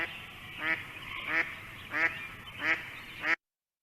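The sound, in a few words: mallard duck quacking, played recording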